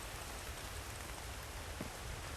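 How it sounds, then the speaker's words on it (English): Steady rain falling in the survival video game The Infected, a soft continuous hiss that holds even and unbroken throughout. "At least the rain's calming down."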